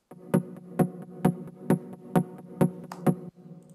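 A Serum software synth preset from Arwell Music plays a rhythmic pattern of eight evenly spaced, punchy hits with bright transients and a sustained low body, clean and alone with no voices.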